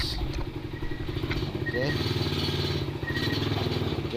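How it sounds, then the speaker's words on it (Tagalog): Motorcycle being parked near a roadside, its engine running steadily with a low rumble and some clatter, close by, while someone talks over it briefly. "Okay, parking na yung motor ko, no?"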